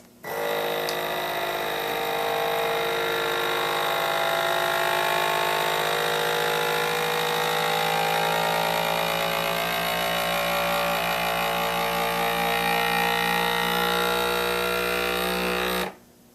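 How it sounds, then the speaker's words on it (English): A FoodSaver V2840 vacuum sealer pulls air from a small food bag, its motor droning in a steady, close hum for about sixteen seconds before cutting off abruptly. "So here we go, hit vacuum seal."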